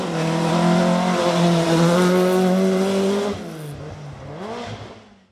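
A Ford Escort Mark I rally car on a Mid Wales stage screams past at high revs, a loud, near engine note that drops through a gear change and fades as it moves away.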